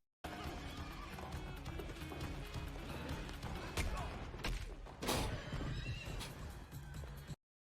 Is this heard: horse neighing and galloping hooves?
yes